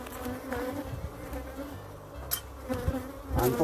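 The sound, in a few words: bees buzzing around a beehive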